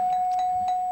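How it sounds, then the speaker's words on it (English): Several bright, sustained electronic bell dings ring in quick succession to close a round on the 1975 syndicated game show To Tell the Truth, clear and loud with no talking. "5 or 6 bells. I wasn't able to count them, but we got bells anyhow that ended the game"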